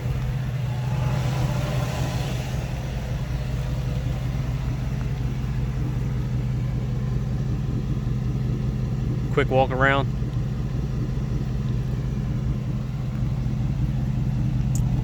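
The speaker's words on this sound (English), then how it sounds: "this is the exhaust sound check. 2005 Dodge Ram" A 2005 Dodge Ram with a 5.7 HEMI and straight-pipe exhaust idling nearby: a deep, steady, even rumble that runs unbroken throughout, with a brief voice speaking over it.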